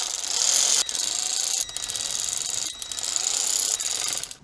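Power tool running in water pump pulley bolts on a BMW E46 engine, a close, buzzing whirr in several short bursts separated by brief pauses.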